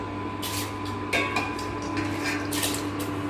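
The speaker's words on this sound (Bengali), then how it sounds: "এবার আমি হাড়ির মধ্যে দিয়ে নিচ্ছি" Washed rice going into a cooking pot, with clattering knocks of metal cookware and bursts of grainy rattling, close and fairly loud over a low steady hum.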